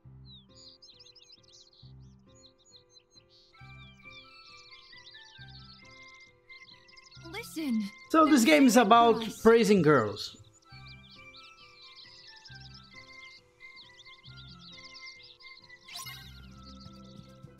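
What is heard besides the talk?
bird chirping in the video game Kingdom Hearts 3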